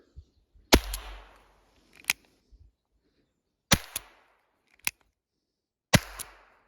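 Several sharp, light gunshot cracks from a short-barreled Flobert-cartridge revolver sound at irregular intervals, some in quick pairs, with quiet pauses between them.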